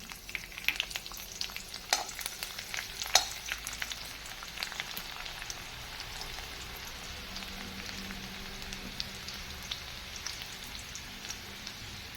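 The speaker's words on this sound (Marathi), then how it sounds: "कढईत तेल तापलं की आपण त्यामध्ये घालून घेणार आहोत लसूण" Garlic fries in hot oil in a kadhai wok with a soft, steady sizzle and crackle, and a few sharper pops near the start.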